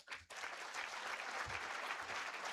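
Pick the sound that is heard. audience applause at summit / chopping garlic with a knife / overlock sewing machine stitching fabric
audience applause at summit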